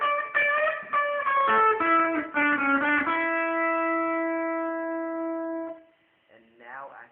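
An electric guitar with an effects unit plays a phrase from a song: a quick run of picked notes settling into a long ringing sustained note that fades, followed by a short wobbling bend.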